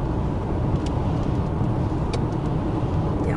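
Car driving on a road in the interior of British Columbia, a steady loud engine and tire rumble heard from inside, continuous with no clear speech.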